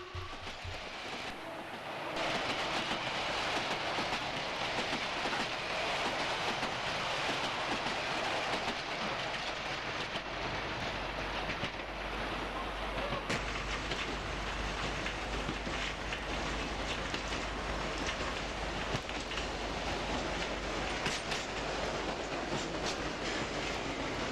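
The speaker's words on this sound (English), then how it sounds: "At Harlesden, an empty stock working from Stonebridge Depot speeds through." An empty Bakerloo line stock train from Stonebridge Depot speeds through Harlesden station, a loud, continuous rushing roar with rattling wheels that lasts over twenty seconds.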